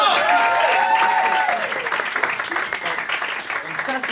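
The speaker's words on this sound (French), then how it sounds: "on peut l'applaudir, mesdames et messieurs." Loud audience applause at an improv show during the Festival Impro en Seine 2024 in Nantes: dense, continuous clapping with a few whoops and shouts early on, holding strong throughout.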